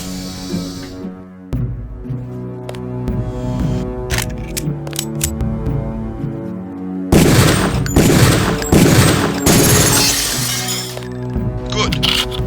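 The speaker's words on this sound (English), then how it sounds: "Release the first target and take a few shots with one of the pistols until it is destroyed." Pistol shots in the Deus Ex training level strike a target until it breaks apart: a string of sharp game gunshots and shattering crashes, louder and denser in the second half, over a low synthetic background hum.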